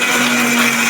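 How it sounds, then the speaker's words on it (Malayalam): A mixer grinder whirs loudly and steadily, grinding a chutney of roasted chillies in its jar, with no voices present. "നമുക്കിതൊന്ന് അരച്ചെടുക്കട്ടോ മിക്സിൻ്റെ ജാറിലിട്ട്."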